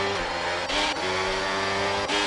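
Race cars at the start of an Australia round in a racing video game, engines revving hard in a loud, continuous roar, with a brief dip in pitch as gears change before climbing again.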